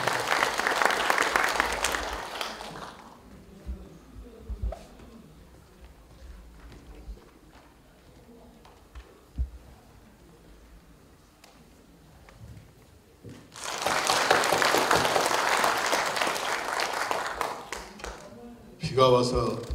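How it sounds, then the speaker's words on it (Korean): An outdoor audience at a lantern festival tower lighting ceremony in Muan breaks into loud applause, fades into a quieter stretch of murmuring and scattered sounds, then erupts in a second strong round of clapping. "큰 박수로"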